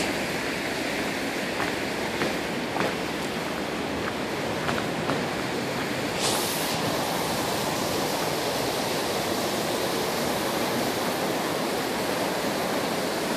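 Steady, full roar of Minnehaha Falls in winter, a dense continuous rush that stays even throughout, with a few faint clicks and knocks near the microphone.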